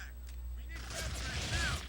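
Squad rifle fire in an Xbox video game, a short burst of overlapping shots breaking out after a quieter moment, fairly faint and mixed with game sounds.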